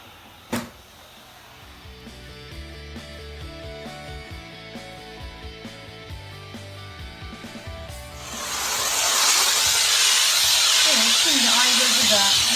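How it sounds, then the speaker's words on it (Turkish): A Karcher steam cleaner blasts steam onto a floor, starting as a loud, steady hiss after a few seconds of quieter background music and continuing without a break to the end. "Buharı yere vererek gördüğünüz gibi temizliği yapıyorum."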